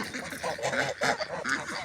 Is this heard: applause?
no